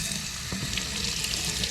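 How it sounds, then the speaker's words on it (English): Water from a tap splashes and rinses sand out of an XP Deus 2 metal detector coil. A close, steady hiss of running water with faint splashing continues without pause and with no talking. "I'm just going to rinse out all the sand"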